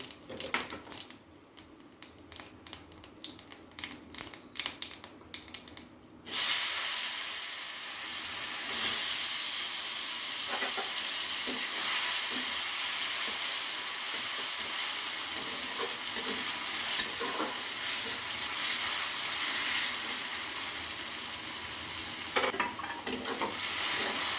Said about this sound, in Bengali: তেল গরম হয়ে গেছে, আমি এখন জিরে দিয়ে আলুটাকে ভেজে নেব।